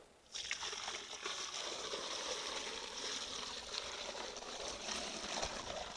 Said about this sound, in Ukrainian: І ще одне відерце виливаємо